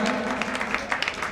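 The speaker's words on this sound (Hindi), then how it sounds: "एक बार जोरदार तालियां बजाइएगा" Crowd at a Jain foundation-stone ceremony with a monk present claps in a moderate, uneven burst, individual hand claps popping out of the wash, with a faint steady tone underneath.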